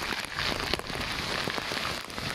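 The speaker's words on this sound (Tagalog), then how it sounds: "Kasi pag ganitong kalakas ang ulan" Steady, dense hiss of heavy rain from Typhoon Kristine pouring down onto surfaces, constant and loud throughout with no voices.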